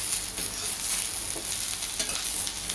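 Okra pieces stir-fry in a little oil, a steady close sizzle with scraping stirs recurring every half second or so, no talking.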